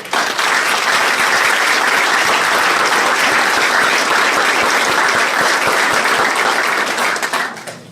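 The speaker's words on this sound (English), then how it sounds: "how about a round of applause for the folks here in the room?" A loud, sustained round of applause from a room full of people at a City of Elk Grove meeting to welcome a new police chief. Close, crackling clapping holds steady for several seconds, then thins and tapers at the end.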